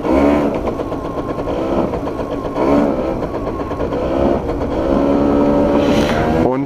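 A Kymco Agility scooter being ridden, its engine droning close and loud with the pitch rising and falling as it accelerates and eases off.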